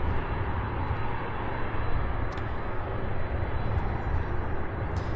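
A UPS Boeing 767 at Louisville International Airport gives a steady, broad jet rumble from some distance, with a few faint clicks over the drone.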